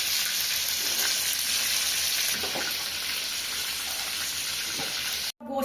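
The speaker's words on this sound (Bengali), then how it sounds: "এই দেখো আমি চিকেন ভাজবো, চিকেন নিচ্ছি, চিকেন রান্না করবো" Chicken frying in a pan with cumin and garam masala, a steady bright sizzle hissing throughout at close range, broken by a brief dropout near the end.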